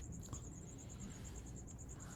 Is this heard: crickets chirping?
yes